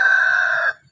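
A single loud, close chicken call, held for most of a second before cutting off.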